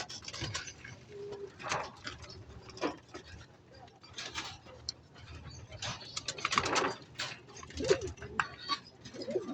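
Pigeons in a loft coo softly, with scattered wing flaps and shuffling among breeders and purged cocks. Faint talk sits in the background.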